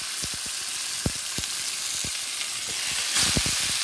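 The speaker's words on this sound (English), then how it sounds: "You hear that sizzle" Steaks laid in hot olive oil in a cast iron skillet sizzle steadily, with a bright continuous hiss and scattered popping crackles, close up, with no voices.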